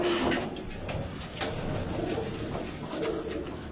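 Pigeon cooing from a racing pigeon loft in Karachi, low soft coos repeating through steady background noise, birds close by with no talking.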